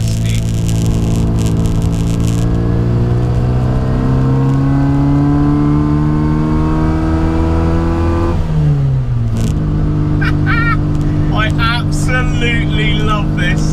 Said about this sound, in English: I'm doing like 40 miles an hour and having the time of my life in this car.